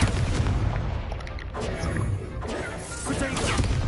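Explosive blasts from the Confringo spell in Hogwarts Legacy, a series of loud booming crashes and smashes in quick succession with a voice speaking amid the combat noise.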